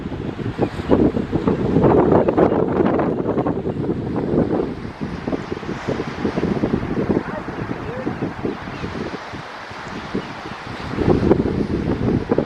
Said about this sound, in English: You probably can't even hear me because it's so windy.